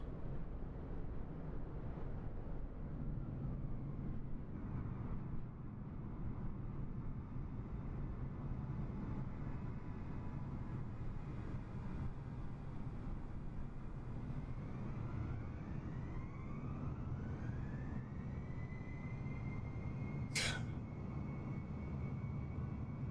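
F-18 jet engine in a video game, a steady, fairly faint droning roar that runs throughout with a rising whine near the end and a brief sharp click.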